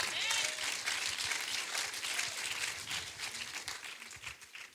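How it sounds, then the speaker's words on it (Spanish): Applause from an audience for a female doctor on a religious meditation program, a dense, steady wash of clapping lasting throughout, with faint voices mixed underneath. "Un aplauso a la doctora."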